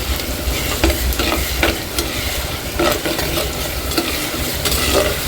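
Garlic and curry leaves sizzle in a pan for Tamil fish kulambu while a spoon stirs through them, scraping in light irregular knocks over a constant close frying hiss, with no voices.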